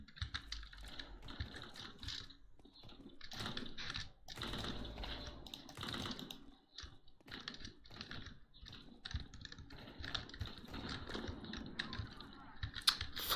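A computer keyboard being typed on during a game stream, with rapid irregular key clicks running continuously at close range and fairly soft, no talk.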